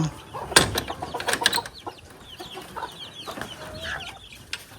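Caged desi hens on a farm cluck in short irregular bursts with a few louder squawks at first, then quieter murmuring, close by and without talk.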